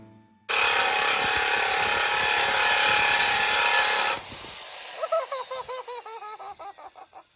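A reciprocating saw cutting metal on a Jeep JL bumper roars loudly and steadily for several seconds, then winds down and stops, followed by a run of quick rattling clicks and a fading whine as the tool spins out.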